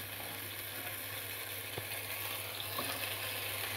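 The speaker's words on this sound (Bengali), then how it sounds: "এবার খানিকক্ষণ ভাজা করে নেব শাকটাকে" Chopped water spinach greens frying steadily in a pan for lentil dal, a soft continuous sizzle with a couple of faint utensil taps, close and unaccompanied by talk.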